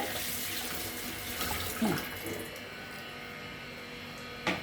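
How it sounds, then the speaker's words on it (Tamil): Running water pours steadily from a tap with light splashes and a few clinks as hibiscus flowers are rinsed, close by. "இதே அலசிக்கணும் தண்ணியில். இப்படி நல்லா அலசிட்டு"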